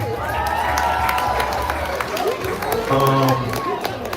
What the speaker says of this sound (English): Can y'all clap it up for Geronimo Speaks?